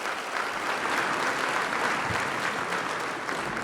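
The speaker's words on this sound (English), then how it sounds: "I want to give those guys a round of applause for sharing their stories one more time." A luncheon audience applauding, dense sustained clapping from many hands filling the room at a steady loud level for several seconds.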